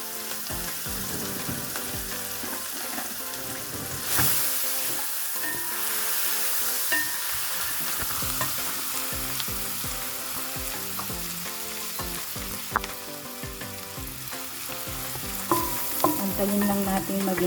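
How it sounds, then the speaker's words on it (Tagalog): Onion sizzles and fries in a pan over medium heat, a steady crackling hiss with occasional stirring scrapes, close and continuous with no talking. "lagay na natin ang ating onion. Make sure na medium heat lang po para hindi agad masunog."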